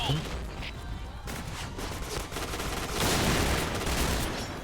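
A G11 Recamo rifle fires in bursts during a Point Blank match, its rapid shots crackling fairly faintly amid other game sounds.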